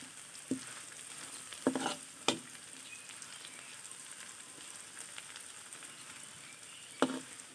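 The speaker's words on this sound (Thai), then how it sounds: "ใช้ไฟไม่ค่อยไม่ต้องแรงมากนะครับ เดี๋ยวกระเทียมมันจะไหม้ ค่อยๆ เจียวไปครับ" Garlic frying slowly over low heat in oil, giving a soft, steady sizzle throughout with a few louder scrapes and clinks of stirring at irregular moments, and no talking.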